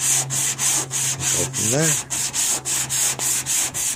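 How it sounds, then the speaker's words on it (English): Close, rhythmic sanding strokes rasp back and forth at a steady pace over body filler on the front end of a 1995 Ford F250, with a brief voice heard partway through. "now we're just going to start sanding it out"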